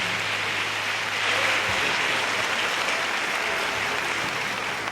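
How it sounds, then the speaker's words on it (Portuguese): A church congregation applauds continuously, a dense, even wash of clapping that holds steady from start to finish. "eu gostaria que você também aplaudisse ao Senhor pela vida do servo de Deus, pastor Marco Fel"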